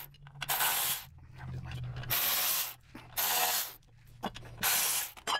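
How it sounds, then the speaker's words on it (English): Ratchet wrench turning out the screws on a Harley-Davidson Twin Cam Touring clutch inspection cover, close-up rhythmic clicking in four quick bursts separated by short pauses. "I already have these broke loose, guys, with a regular ratchet, so I'll just go ahead and take these five screws out"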